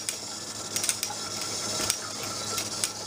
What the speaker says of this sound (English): using the small crescent wrench to tighten securely